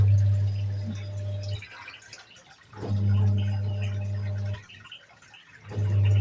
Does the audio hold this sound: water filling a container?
yes